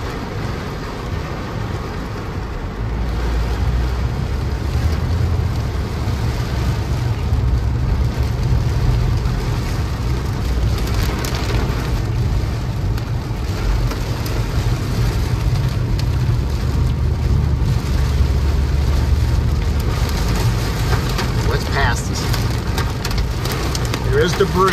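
Heavy rain pours down steadily with sharper hail impacts mixed in, during a severe storm in Crothersville, Indiana, under a constant low rumble like wind or a running engine.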